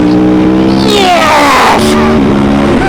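A 2020 Aprilia Tuono motorcycle accelerating hard in fourth gear, its engine note rising steadily in pitch, loud and close throughout.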